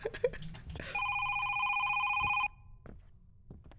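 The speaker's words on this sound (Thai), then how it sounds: "มีโทรศัพท์นะครับ" An electronic telephone ring sounds as one steady, loud tone lasting about a second and a half, with brief talk and handling noises before and after.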